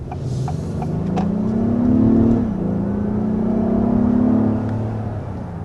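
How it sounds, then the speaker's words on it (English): A 2023 Hyundai Palisade or 2023 Acura MDX V6 SUV accelerating, its engine note climbing, dipping at a gear change and climbing again, with a steady, close cabin rumble and no talk. "There's a bit of an acceleration, a little bit foiled by the red light here"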